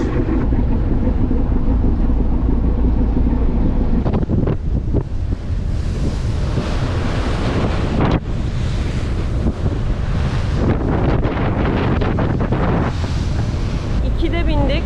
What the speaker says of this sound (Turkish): Ama rüzgar çok fena.